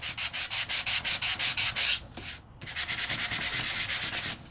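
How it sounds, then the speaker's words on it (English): Sandpaper rubbing over colour core cardstock cut with a Sizzix die, in steady rhythmic back-and-forth strokes, close and fairly loud, with a short pause midway before faster strokes resume. "I can really go in there and give it a really little bit harder sanding"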